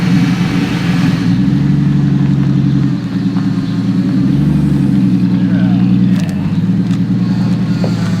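Ford Fairmont in a V8 swap project rolling forward, a loud close engine rumble with steady low drone, a brief dip then gentle revving as it moves, with faint clicks over the top.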